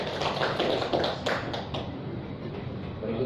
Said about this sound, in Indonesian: kita beri aplaus dulu kepada Pak Idris